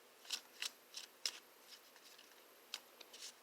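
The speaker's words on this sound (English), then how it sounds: "I really enjoy shuffling cards" Small playing cards being shuffled by hand, a series of soft crisp riffling flicks and taps, close and quiet, with no voices.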